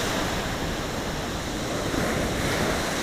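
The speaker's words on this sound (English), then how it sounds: "We just need that big wave to come in." Ocean surf washing in along the shore at golden hour, a steady broad roar of breaking water with wind rushing across the microphone, close and continuous, no voices.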